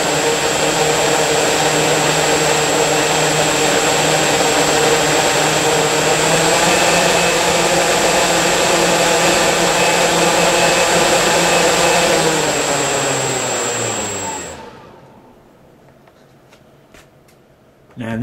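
A loud, steady high-pitched whine of an electric motor spinning a three-blade propeller on a dyno, with a constant tone, winding down and stopping near the end.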